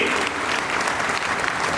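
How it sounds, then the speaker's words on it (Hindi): A crowd at an outdoor political nomination rally applauds to welcome the chief guest, a dense, steady wash of clapping that stays loud through the short stretch. "एक बार जोरदार तालियों की गड़गड़ाहट से स्वागत करें हमारे मुख्य अतिथि"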